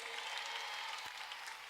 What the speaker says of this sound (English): A very powerful hand clap for Mr. Frank Gashumba.